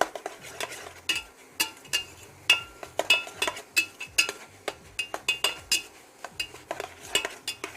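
Spoon stirring garlic powder and cumin together in a metal pot or bowl for taco pasta, a rapid series of sharp clinks and scrapes in uneven rhythm, close and fairly loud with no talk.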